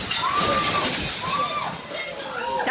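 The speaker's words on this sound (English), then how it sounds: "The water crashes against the window and glass shatters as the spectators scream." Water crashes against a restaurant window and glass shatters, with sloshing and splashing mixed with clinks and rising screams from spectators across the short, dense stretch.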